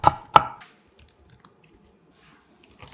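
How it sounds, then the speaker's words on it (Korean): Two sharp knife chops on a cutting board as ginger and garlic are cut small for a lettuce dish, the strokes close together at the start, followed by faint scattered taps and near-silence. "생강 마늘 크기 1개도 작게 잘라서"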